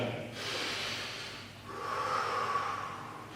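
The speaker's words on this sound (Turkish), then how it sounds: "Daha sonra yavaş bir şekilde nefesimi veriyorum." Slow, deep breathing exercise during kickboxing training: a long drawn inhale followed by a sustained, steady exhale, close and clear with no talk.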